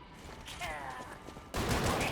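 Enemy gunfire in the Lies of P action game: a short burst of shots, with a heavier blast near the end, heard fairly close.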